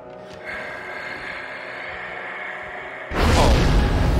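A monster in the horror game Dead Space 3 breathes close by, a soft rasping exhale held for a few seconds, then a sudden loud heavy whooshing gasp at the end.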